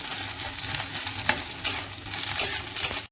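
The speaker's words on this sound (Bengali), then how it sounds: "একটু লঙ্কা কুচিয়ে দিয়ে দিলাম" Chopped chili sizzles in hot oil in a home kitchen pan while being stirred, a continuous crackling fry with scraping utensil strokes and occasional louder clatters, close and steady with no talk.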